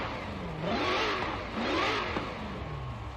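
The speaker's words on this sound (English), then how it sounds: "we can hear the supercharger whine" A supercharged V8 engine in Forza Horizon 4 revs, climbing and falling twice, its growl topped by a rising high-pitched supercharger whine, heard from inside the car.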